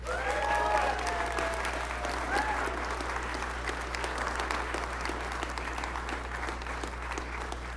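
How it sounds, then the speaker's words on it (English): A large crowd applauds for Elon at a Tesla Gigafactory Nevada event, steady dense clapping sustained throughout at a loud level, with a few faint tonal sounds early on. "Round of applause for Elon."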